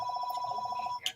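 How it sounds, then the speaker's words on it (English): A telephone rings steadily and loudly close by in a room where someone is building a LEGO AT-AT, a fast repeating electronic trill running unbroken for about a second before a brief clatter. "The phone's ringing and it's distracting me."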